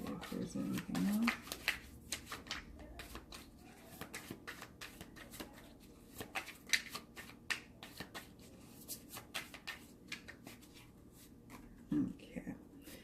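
Cards being shuffled and laid down close by, a quick patter of soft flicks and snaps that comes and goes, with murmured speech underneath.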